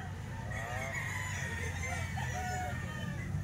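Roosters and hens for sale at a market cluck and crow in overlapping bursts against a constant low crowd murmur.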